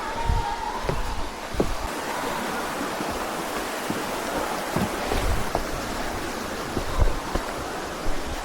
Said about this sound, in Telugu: ఇంత పెద్ద వాటర్ ఫాల్ ఎప్పుడైతే చూసామో.